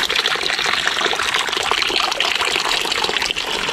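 Running water flowing beside a village bathroom in the Nilgiri hills after rain, a loud close steady gush and trickle that never lets up, with no voices.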